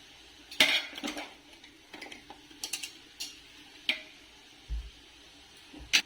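A spatula scrapes and clinks against a pan while chicken fried rice is mixed, with sharp metallic taps and scrapes at irregular intervals and quiet gaps between them, close by with no talk.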